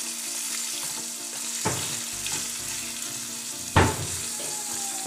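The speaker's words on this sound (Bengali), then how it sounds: "একটু নেড়ে দিলাম, এটাকে মিক্স করে দিলাম এটা পুরাটা" Hog plum (amra) pickle being stirred in a pan over steady frying sizzle, with two distinct scraping knocks of the spoon against the pan, the second louder; no talking.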